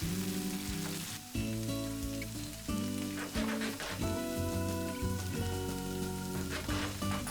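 Cubed potatoes fry in oil in a hot pan with a steady, rain-like crackle and sizzle, heard close under loud background music.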